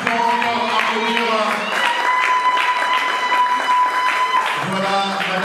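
An audience at an honouring ceremony applauds in a steady, sustained wash of clapping, with voices and talk continuing over it.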